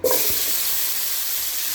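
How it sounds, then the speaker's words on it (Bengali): Pumpkin and potato pieces coated in turmeric and salt fry in hot oil in a wok, a steady broadband sizzle that starts abruptly and holds loud and close throughout, with no talking. "প্রথমে আমি মিষ্টি কুমড়া আর আলুটা ভেজে নেব।"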